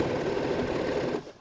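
Sewing machine running a top stitch along quilted toiletry-bag lining, a fast, even mechanical rattle of the needle that holds steady for over a second, then stops abruptly.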